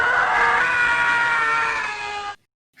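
A person imitates the Howie scream sound effect with a long, strained, wailing cry that holds steady for over two seconds and then cuts off abruptly into silence.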